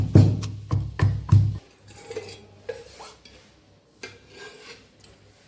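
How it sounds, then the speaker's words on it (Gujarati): A few heavy, rhythmic thuds of pounding spices with red chili powder in a mortar, close up, followed by quieter scraping and grinding. "આવી રીતે આપણે એને ખાંડી લેવાનું છે।"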